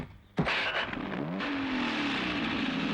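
A car engine fires up with a sharp start, then revs and holds a steady rising drone as it pulls away, loud and near.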